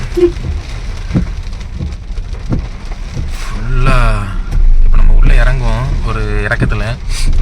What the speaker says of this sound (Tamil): சரியான காற்றடிக்குது மழை வந்து இப்போ கொஞ்சம் லைட்டாக குறைஞ்ச மாதிரி தான் இருக்குது